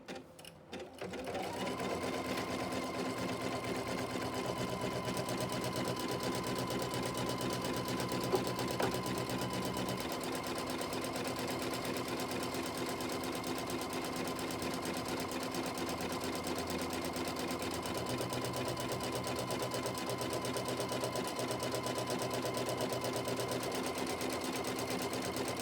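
A sewing machine runs steadily and close by, stitching a flying geese quilt block along the cutting line, a continuous mechanical hum with a slight shift in tone partway through and no talking.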